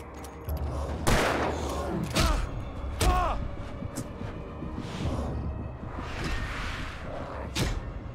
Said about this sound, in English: Give me a second to shoot you guys